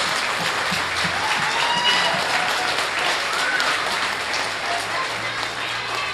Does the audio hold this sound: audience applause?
yes